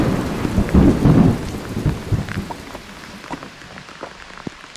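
Steady rain pours at the ancient Angkor temples in the Cambodian jungle, with a close rumble of thunder early on, then patters and scattered drips as the downpour continues without talk.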